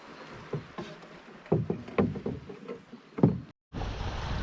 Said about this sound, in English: this dinghy comes with a sailing rig